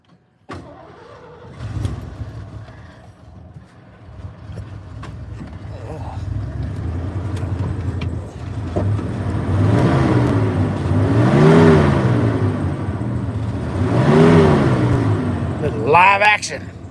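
A car engine cranks and catches, idles roughly, then revs up and down in several rising and falling surges. It is close and loud, with people talking over it at the start and again at the end.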